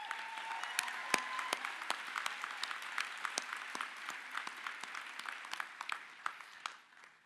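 Elon University School of Law's December 2017 graduating class applauds themselves at commencement, a fairly faint, sustained patter of clapping with sharper individual claps standing out, fading near the end.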